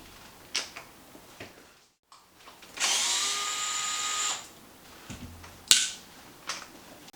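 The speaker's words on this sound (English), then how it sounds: "let's go ahead and pull these front wheels off real fast, and for that we will need an 8 millimeter." Power driver with an 8 mm bit spinning off a front wheel nut on a Traxxas Maxx RC truck, one sustained whir of about a second and a half between scattered clicks and clatter of parts, close and alone.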